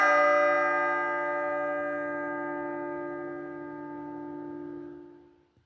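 A single bell strike rings out clearly, its tone sustaining and slowly decaying over several seconds before cutting off at the end.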